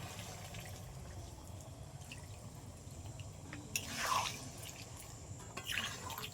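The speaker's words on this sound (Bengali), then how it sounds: "এবার আমি জল দিয়ে দেবো" Water is poured into a pan of spicy chicken curry being cooked at home, a soft continuous trickle with a few brief splashes near the end, quiet and close.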